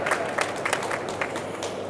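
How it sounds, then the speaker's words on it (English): Trade-fair audience at Hannover Messe clapping at a robotics company presentation: brief, fairly close applause from a small crowd with distinct individual claps. "once more applause"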